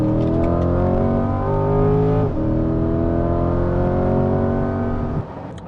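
Corvette engine rising in a steady, loud acceleration with harmonics climbing, a brief shift-like dip, then holding strong before easing off near the end; close-up cabin sound, no talking.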